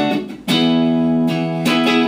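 A Fender Stratocaster electric guitar plays bright sustained notes with a shimmery, springy tone, two strummed chords ringing out clearly and loud over about two seconds.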